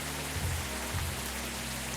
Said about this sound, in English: It's raining hard outside in the game though